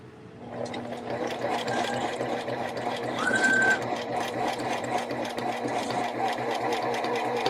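Small home sewing machine stitching a knit beanie, a steady close motor whir with a rising pitch as it speeds up, a brief higher whine partway through, running continuously.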